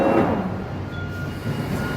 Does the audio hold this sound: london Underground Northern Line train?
yes